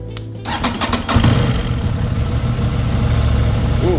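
Starter cranks a stock 2022 Aprilia RS660 parallel twin and it fires, catching abruptly and settling into a loud, close, steady idle with a slightly uneven pulse.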